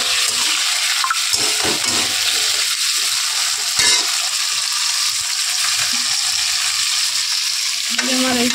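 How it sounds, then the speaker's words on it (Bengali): Salted potatoes fry in a pan with a constant bright sizzle, broken by scraping and clattering stirs now and then, with no talking over it. "নুন দিয়ে আলুটা আগে ভেজে নেবো।"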